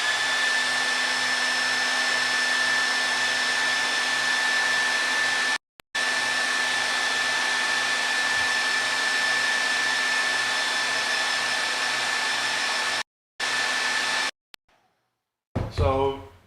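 A hair dryer blowing on a watercolor painting, a steady close whine running for long stretches, cut off briefly twice before stopping, then a faint rustle at the end.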